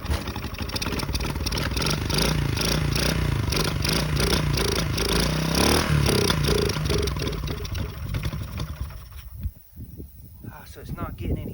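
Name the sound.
1972 Honda SL70 motorcycle engine running after kick-start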